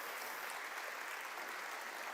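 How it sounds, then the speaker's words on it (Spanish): A church congregation claps during a sermon, a faint, even, continuous patter of applause heard from a distance with no clear individual claps standing out. "¿Por qué no le das un aplauso al Señor?"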